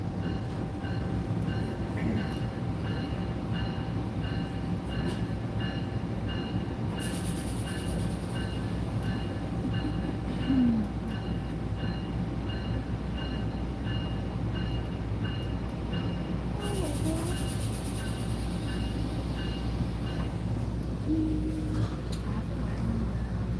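Steady rumble and rattle from inside a moving exo commuter train between Lucien-L'Allier and LaSalle stations, Montreal, with a constant low roar, a faint electrical whine and occasional brief higher hisses.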